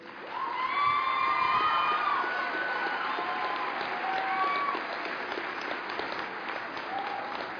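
Graduates and audience at a community college graduation ceremony clap steadily, with scattered cheers and whoops rising over the broad, sustained applause.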